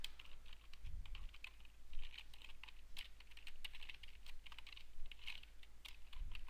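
Code being typed on a computer keyboard, quick irregular bursts of soft key clicks and taps close by, fairly quiet with no speech.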